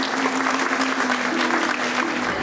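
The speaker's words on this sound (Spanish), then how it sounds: "Un aplauso para ella." Steady applause from an audience at a nursing school graduate event fills the clip, dense and continuous, with a faint steady hum running underneath.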